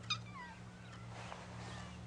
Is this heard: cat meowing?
yes